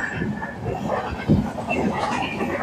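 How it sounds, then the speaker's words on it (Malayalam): A train crosses the Perumon railway bridge in Kerala, heard as a broad, rushing rumble with wind noise close to the listener, steady for a few seconds with a brief louder burst midway. "ഗൈസ് അങ്ങനെ ട്രെയിൻ വന്ന് പോയിട്ടുണ്ട്"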